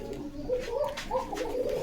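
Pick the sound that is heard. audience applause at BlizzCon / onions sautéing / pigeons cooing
pigeons cooing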